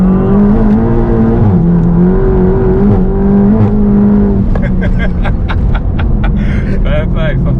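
A tuned 520bhp Volkswagen Golf GTI Clubsport accelerating hard, heard from inside: a loud, droning engine tone rising and dipping through gear changes, with sharp rattling pops toward the end.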